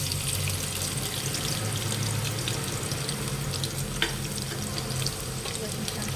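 Garlic and cumin seeds frying in about four spoonfuls of hot oil in a kadhai, producing a dense, steady, close sizzle that continues without a break, with one small clink near the middle.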